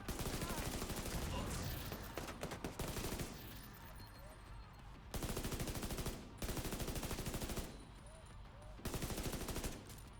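Heavy-recoil gunfire in The Division 2 shooter game comes in loud rapid bursts of automatic fire, several long volleys separated by brief pauses, close and dominant.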